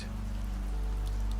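Rain patters steadily on the old glass of a cottage window, a soft, even hiss with faint scattered drops and a low background rumble, constant and unbroken.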